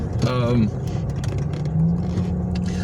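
A car with a failing cooling system rolls down an alley, its engine rumbling low and steady beneath someone talking.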